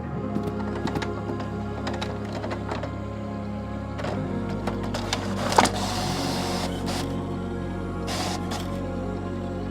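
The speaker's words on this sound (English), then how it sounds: "So the printer will print." A 3D printer working in a simulator game, a busy run of rapid clicks, ticks and short mechanical whirs with a brief hissing burst midway, close and fairly loud, with no talk.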